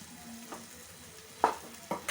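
Boiled potatoes being mixed with spices in a pan, a soft low sizzle under a few distinct scraping and clinking strokes of a spoon against the pan, close by.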